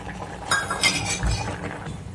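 A spoon clinks and scrapes against a metal pot while stirring cream (malai) into simmering rice kheer, with a few light taps and soft stirring, close and moderately quiet.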